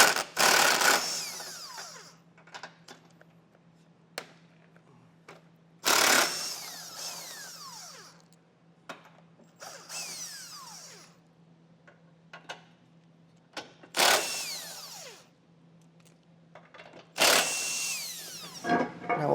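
Power tool with an 18mm socket spinning off bumper beam nuts on a 2019 BMW X5 during a trailer hitch install, in several loud, short whirring bursts separated by quieter clicks and handling noise, with a steady low hum underneath.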